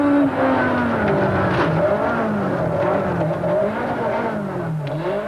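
A 1992 Nissan Sentra rally car with blown front shock absorbers drives a bumpy stage, its engine revving and rising and falling in pitch close by, loud and continuous, with brief tire noise.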